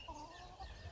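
Backyard pet hens beside a garden with makeshift fencing give soft, faint clucks and low murmuring calls, quiet and close, with light outdoor background noise.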